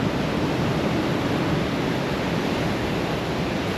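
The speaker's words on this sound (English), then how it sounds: "See the ocean coming in right here." Ocean waves wash in below tall sea cliffs on Rurutu in the Austral Islands, a dense, steady roar of surf that holds evenly at moderate level with no voices.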